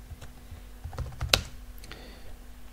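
A terminal command typed on a computer keyboard during a Linux session gives a quiet burst of close key clicks with one sharper keystroke, like Enter, near the middle.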